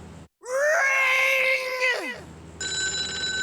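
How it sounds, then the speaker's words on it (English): An electronic telephone ringtone from the Sam and Max video game sounds loudly and close, with a rising melodic trill after a brief pause and a steady high beeping tone at the end. "That phone is gonna ring."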